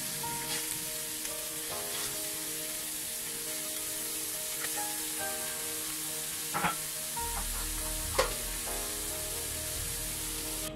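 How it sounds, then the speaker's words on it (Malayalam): Fresh chicken pieces frying in hot oil for a Kerala-style chicken curry, a soft continuous sizzle with occasional crackles and a couple of stirring clinks, no voices over it. "ഇത് ഈ ചിക്കൻ്റെ കഷ്ണങ്ങൾ നമുക്ക് ഈ എണ്ണയിലേക്ക് ചേർത്ത് കൊടുക്കാം."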